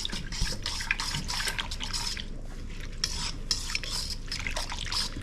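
Repeated soft swishing and sloshing as a mixture of water, salt and gin is stirred in a container, in steady irregular strokes, close and fairly quiet.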